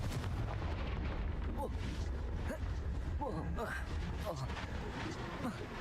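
In the Hogwarts Legacy video game, a Confringo fire spell goes off as a fiery blast with rumbling, booming impacts and crackling debris at moderate volume, and a voice speaks over the game sounds.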